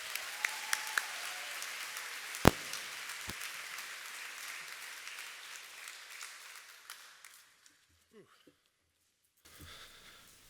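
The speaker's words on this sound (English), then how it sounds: "Let's give a round of applause for Ben, Courtney, and their leadership" Applause at a graduation ceremony for student performers: a crowd claps steadily at moderate volume, then the sound thins and fades to near silence, with a few sharp knocks and faint rustling and breathing near the microphone.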